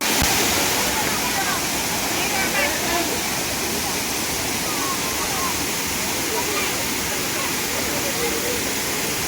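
A waterfall near Tarini Temple roars in a continuous, loud wash of rushing water, close and unbroken from start to finish.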